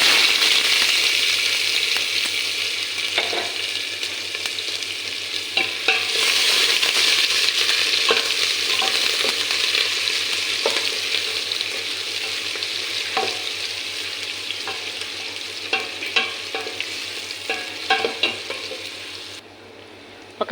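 White onion frying in a pan for chicken kabsa, a continuous loud sizzle with repeated scraping and stirring clatters throughout, cut off abruptly at the end.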